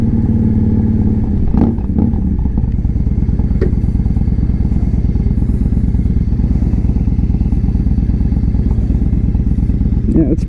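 A 2015 Victory Vegas 8-Ball motorcycle rumbles loud and steady while being ridden, a deep continuous V-twin drone with a couple of thumps near the start and a slight rev near the end.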